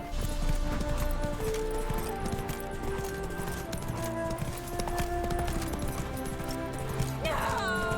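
Roach, a horse in The Witcher 3: Wild Hunt, gallops with steady clip-clop hoofbeats running throughout, mixed with game music and a voice speaking over it.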